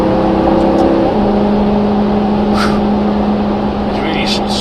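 A 2009 Maserati Quattroporte GTS accelerates under way, its engine a loud, sustained tonal drone that drops in pitch around a quick gear shift and then climbs steadily again.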